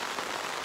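Rain falls on a Woods Klondike six-person cabin tent, a dense, steady hiss of drops pattering on the fabric, heard alone for under a second.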